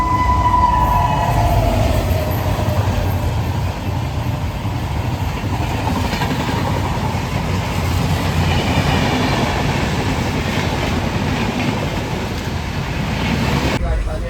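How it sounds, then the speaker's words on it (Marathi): A train pulls away and rolls along the rails, a loud, continuous close-up rumble with a steady rhythmic clatter that holds evenly throughout. "फायनली ट्रेन सुटली"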